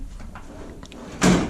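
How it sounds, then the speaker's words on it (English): A drawer in a US General steel tool chest rolls open in a garage workshop with a single loud, near sliding clatter, after a quieter stretch of faint shuffling. "there's my hammer drawer"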